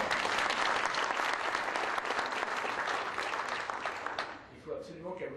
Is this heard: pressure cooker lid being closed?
no